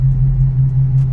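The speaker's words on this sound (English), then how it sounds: "the car sounds the exact same from when I got there" A steady, low engine and exhaust rumble from an Infiniti Q50 with its flex pipe cut off idles continuously at a constant level, with no voices.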